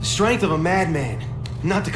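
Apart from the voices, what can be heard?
No everyday noise stands out behind the speech.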